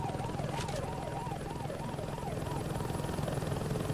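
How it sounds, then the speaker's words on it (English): A Saints Row 2 helicopter beats steadily with a rhythmic, wavering rotor drone at moderate distance, continuous throughout with no speech. "should be a helicopter on the roof"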